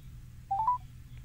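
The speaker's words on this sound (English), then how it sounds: "I'm going to call Maggie back and get her back on the line" A short run of telephone keypad dial tones, three quick beeps placed to call a radio show guest back on the line, clear over a low hum with no talk.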